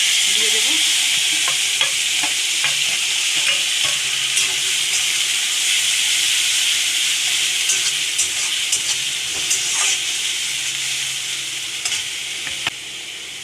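Black cumin seeds, ginger, onion and garlic fry in a wok of leftover fish-frying oil, giving a loud, steady sizzle with scattered crackles and spatula stirring throughout, no voices.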